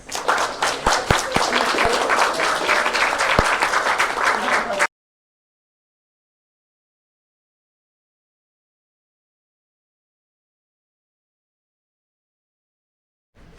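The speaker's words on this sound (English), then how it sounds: "Round of applause." Loud, dense applause from a crowd lasts about five seconds, then cuts off abruptly into silence.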